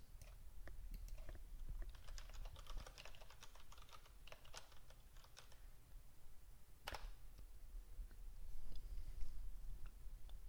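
Someone types a git push to Heroku command on a computer keyboard, a rapid, uneven run of soft key clicks, close and quiet over low room noise, with no talking.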